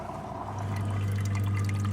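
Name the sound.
milk vending machine pumping milk into a bottle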